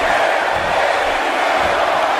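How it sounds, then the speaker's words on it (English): A large arena crowd in the WWE 2K18 wrestling video game roars in a dense, sustained wash of voices, loud and continuous, with no single voice standing out. "the crowd chanting HBK, a lot of Kliq fans, but also a lot of Bullet Club fans"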